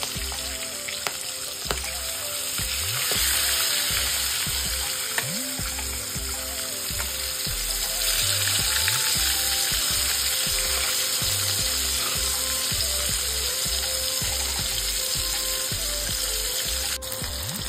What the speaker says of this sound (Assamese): বৰালি মাছ বহুত ফুটিব গতিকে দি আঁতৰি দিব লাগিব